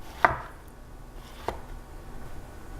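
A knife strikes a cutting board twice, a sharp close chop followed by a softer one about a second later, against quiet room tone.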